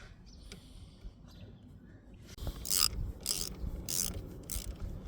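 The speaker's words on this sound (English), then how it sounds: "using a ratchet with a 13mm to tighten it" A ratchet with a 13mm socket tightens a locking nut while changing brake pads and discs on a 2010 Renault Twingo, giving four short bursts of rapid clicking after quieter faint handling sounds.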